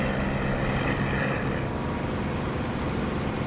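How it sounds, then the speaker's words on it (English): Steady, unbroken drone of a propeller aircraft engine heard from inside the cockpit with the canopy closed in the DCS flight simulator, a dense low rumble with a faint whine that dims slightly partway through, no voices. "we've got just a steady drone of the engine"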